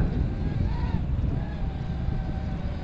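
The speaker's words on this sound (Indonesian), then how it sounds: "anginnya kenceng banget" Strong wind roars and buffets around a flying KY908 drone. Heavy low rumble fills the whole stretch, with a faint, wavering propeller whine above it.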